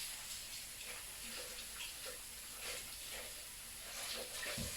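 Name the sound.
water running while rinsing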